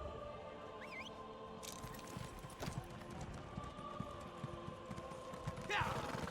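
A horse in The Elder Scrolls Online sets off, its hooves clip-clopping in a steady, even rhythm close by, with a faint voice and soft game ambience underneath.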